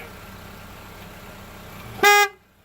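After a quiet stretch of low background hum, a single loud, short car horn honk blares close by, then cuts to silence.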